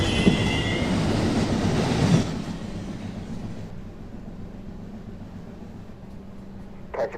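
A New York subway 1 train rumbles along loudly at first, then settles into a softer, steady rolling hum, with a brief sharp burst near the end.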